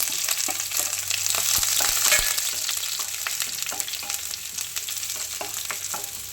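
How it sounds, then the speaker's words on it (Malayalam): Hot oil sizzles steadily with sharp crackles and pops as mustard seeds fry and burst, with shallots and chillies, close by and continuous without voices. "ഇനി അത് തിളച്ചിട്ട് നമുക്ക് കടു വറക്കണം"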